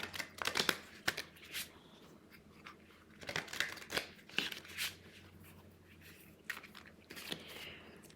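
Tarot cards are shuffled in close, quiet bursts of riffling and papery snaps, with irregular gaps between the flurries.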